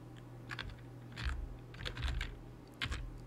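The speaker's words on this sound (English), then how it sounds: "And then you type" Keystrokes on a computer keyboard as a command is entered on a Windows PC, arriving in several short bursts of quick, close clicks with small gaps between them.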